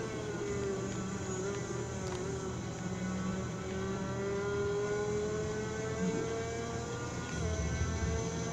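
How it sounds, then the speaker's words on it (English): Motorbike engines in the MotoGP 4 racing game whine at a high pitch and climb as they rev, a continuous loud drone that rises and falls with the shifts along the straight. "I'm hearing motorbike engines"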